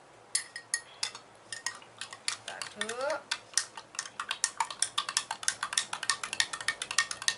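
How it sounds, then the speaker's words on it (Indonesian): A spoon stirs tamarind into a traditional herbal mixture, making rhythmic clinks against the container that grow faster and more regular, close up and with no talking. "terus ini nanti kita masukkan asam masukkan di sini, kemudian kita aduk"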